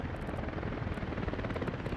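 Helicopters in the city-building game Workers & Resources make a continuous, loud rotor whir and thrum that pulses slightly as it holds steady for the whole stretch, with no voices over it.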